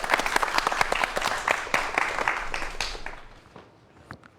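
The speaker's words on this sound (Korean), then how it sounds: "박수 부탁드리겠습니다" An audience at a cybersecurity lecture breaks into brisk applause, dense claps that hold for about two seconds and then taper off into scattered last claps and near silence.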